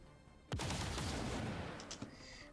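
Rapid-fire gunshots in XCOM 2: a sharp, loud initial blast followed by a sustained rumbling, crackling burst that tails off, with a couple of smaller clicks near the end.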